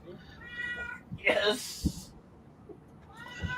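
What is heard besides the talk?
cat meowing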